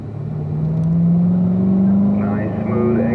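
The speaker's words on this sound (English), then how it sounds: "As we brake here for turn 4, my autos can downshift to 3rd gear." A car brakes for a racetrack corner while its automatic gearbox drops to third, the engine tone sliding steadily lower as speed falls, with a close, continuous rumbling drone throughout and voices heard over it.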